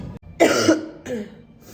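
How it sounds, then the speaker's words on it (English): Two harsh coughs close to the listener inside a coffee shop, the first louder and longer, followed by a shorter second one. "So I just had a coughing fit inside the coffee shop"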